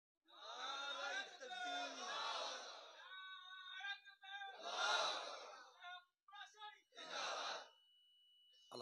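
A crowd at a Bengali Islamic religious gathering roars a takbir of Allahu Akbar in several loud, swelling waves, with short pauses between the bursts of massed voices.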